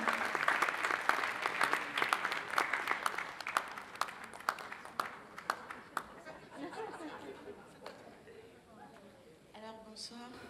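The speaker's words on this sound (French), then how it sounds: "Alors on l'applaudit aussi, Jean-Roch Patoudem." A festival opening-night audience applauds, a dense patter of clapping with chatter mixed in. The clapping fades gradually toward the end, and a few voices and laughs carry over it.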